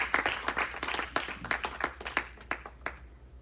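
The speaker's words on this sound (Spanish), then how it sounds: "No sé si le da un aplauso fuerte al Espíritu Santo de Dios" Scattered clapping rises in a church service, a handful of people clapping in brief uneven bursts that thin out and fade, fairly close but modest in volume.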